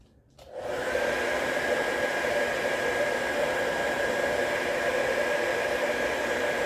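A hair dryer or heat gun blows steadily at close range, warming a factory Suzuki badge on a ZC33S Swift before removal; a continuous loud whoosh with a faint whine starts after a brief quiet moment and holds evenly to the end.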